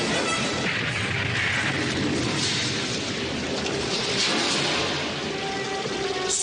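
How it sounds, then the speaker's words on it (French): A grenade explosion destroys a fire dragon in the 1936 Flash Gordon serial, a loud, dense rumbling roar that fills the whole stretch without letting up and has no voices over it. "Je vais le détruire avec cette grenade."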